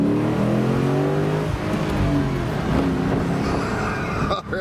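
A 2008 Ford Mustang GT Premium convertible V8 revs hard through rising harmonic sweeps and bangs off its rev limiter, loud and close from start to finish, then drops away abruptly near the end.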